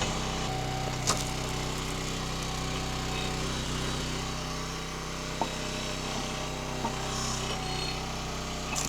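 Split-Fire log splitter engine running steadily with a continuous low drone, joined by a few brief knocks and rubbing sounds of wood on the splitter table; no one speaks.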